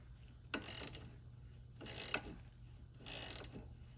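Three short bursts of a ratchet working on a 16mm sway bar link bolt on a BMW E60 M5 during suspension and subframe removal, quiet clicking strokes separated by pauses.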